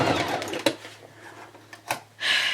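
Sewing machine back stitching a headwrap, short bursts of motor whir and needle clatter broken by pauses and sharp clicks, ending with a brief louder run.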